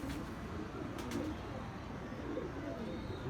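Pigeon cooing at a rooftop loft where fancy flying pigeons are kept, soft low coos repeating under steady ambient noise with a couple of brief bright clicks.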